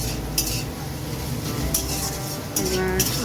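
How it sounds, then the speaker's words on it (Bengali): Sugar being stirred into frying food in a pan, with a steady soft sizzle and repeated scraping, clinking utensil strokes against the metal, close and continuous. "এবার আর একটুখানি ভাজা ভাজা হোক"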